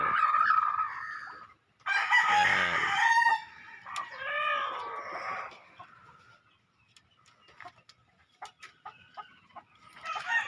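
Hens, including Nielsen Black hens, cluck and a rooster crows loudly and close by, the calls coming in bursts with short quiet gaps, followed by scattered softer clucks.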